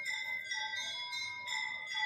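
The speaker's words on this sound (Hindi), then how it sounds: "घंटियाँ बज रही है, उसमें आरती हो रही है" Temple bells ringing during an aarti at a mandir, heard from a nearby rooftop: sustained bright metallic ringing with overlapping tones that swell in two waves, steady and fairly close, with no talking.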